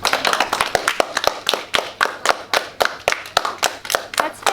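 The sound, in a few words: audience clapping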